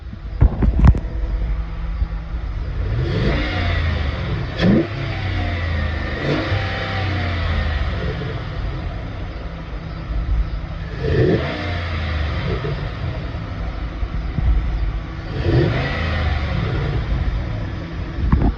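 A Ram 1500 pickup with a K&N cold air intake revs repeatedly, its engine swelling and falling back in several rumbling bursts with a rushing intake note, loud and close, with some wind noise and no speech.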